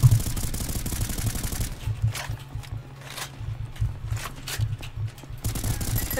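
Gunfire in the Roblox game Ragdoll Universe: rapid bursts of sharp shots that come in clustered volleys, with a quieter stretch in the middle and steady background music underneath.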